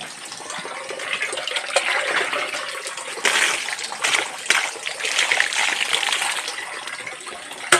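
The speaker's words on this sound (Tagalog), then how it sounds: "Agas ni tubig karon og padayon." Water runs continuously with a splashing, rushing texture, swelling louder partway through and staying steady to the end.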